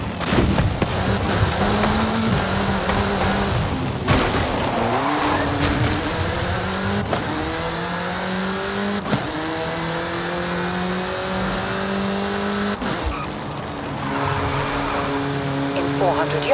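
In Forza Horizon 5, a racing car's engine revs and climbs through the gears at speed, with repeated upshifts and tire squeal, loud and continuous under an excited voice talking.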